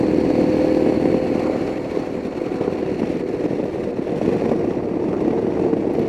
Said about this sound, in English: Beautiful motorcycle.